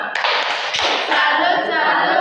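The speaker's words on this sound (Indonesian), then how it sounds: "Tepuk tangan untuk kita semua." A class or meeting group claps together, a dense burst of clapping that starts abruptly and carries on steadily at close range.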